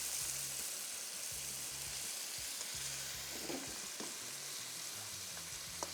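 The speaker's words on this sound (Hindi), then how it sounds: "तेज़ आंच रखनी है, आंच धीमी नहीं रखनी, और फ्राई करते जाएंगे बस।" Chicken mince and onions fry over high heat for dahi qeema, a continuous sizzle broken by the repeated scrape and clatter of stirring, with no voices.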